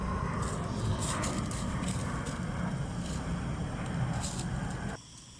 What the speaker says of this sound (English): that is the sound of water boiling